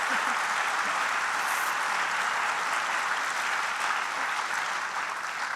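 Sustained applause from a conference audience at a political summit, steady dense clapping throughout at an even level with no talk over it.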